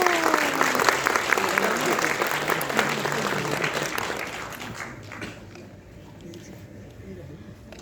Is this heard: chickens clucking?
no